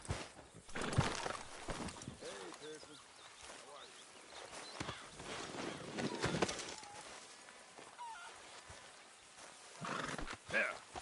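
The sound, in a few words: horse hooves and neighing in a video game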